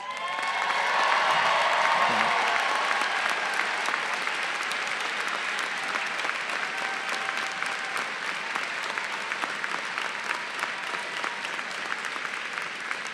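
A standing ovation at a university commencement ceremony: dense, sustained applause from a large crowd with scattered cheers, swelling early and holding steady for over ten seconds.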